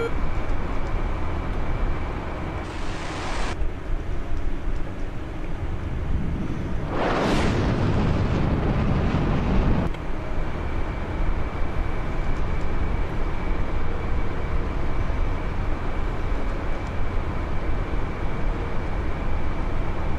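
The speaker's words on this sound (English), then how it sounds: "A little extra afterburner kick that time." Jet afterburner roar during takeoff in a flight game, a broad rushing blast that swells quickly, peaks and then cuts off over several seconds above a constant engine drone.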